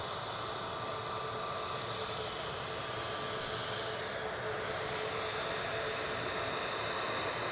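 Pegasus airliner with a two-tone tail at Edinburgh Airport: a steady loud jet engine roar with a faint whine, continuous and unbroken, no talk.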